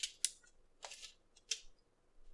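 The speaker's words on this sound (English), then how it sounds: "I'm just gonna go shuffle it." A twisty puzzle being shuffled by hand: a few quick, crisp plastic clicks and clacks in short separate bursts, close and fairly quiet.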